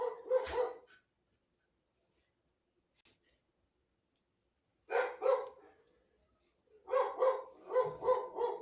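A dog barks in three loud, close bursts: a short cluster at the start, then, after a quiet gap, a second cluster and a longer run of repeated barks at the end.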